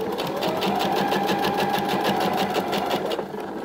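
Sewing machine stitching the back seam of a skirt, a fast, even mechanical whir with regular needle clatter, close and steady before it slows at the end.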